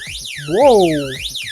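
An emergency hand-crank weather radio's SOS alarm wails loudly, its pitch sweeping up and down in quick repeating cycles, while a voice briefly calls out over it.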